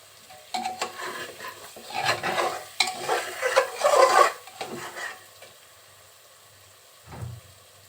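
Mung dal with potatoes and spices being stirred in a pot, several minutes of scraping and clattering strokes with a soft sizzle beneath, then quiet for a few seconds before one last dull knock; close, no voices.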